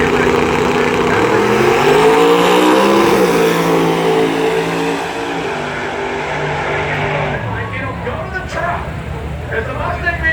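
C10 pickup truck and Ford Mustang launching side by side at a Christmas Tree drag race at Bradenton Motorsports Park, a loud roaring engine rise that fades, with a commentator talking over it throughout.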